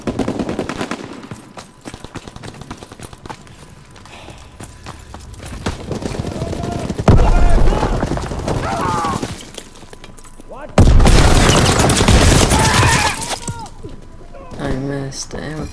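Gunfire in the World War II shooter Call of Duty WW2, with bursts and rattling volleys of shots that come in loud clusters and fade between them, over game ambience, while a player talks at times.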